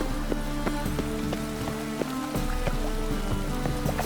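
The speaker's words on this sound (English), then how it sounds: "It just rains and rains." Rain falls steadily in the fantasy video game The Witcher 3, a soft continuous patter on surfaces with regular musical plucks layered over it and no speech.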